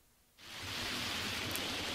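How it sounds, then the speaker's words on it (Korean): Artificial rain shower at Sonagi Village, a literary theme village, starting abruptly after a brief quiet moment and building into a steady, loud hiss of falling water that continues without pause. "매 정각마다 소나기가 내리는 마을이 있습니다"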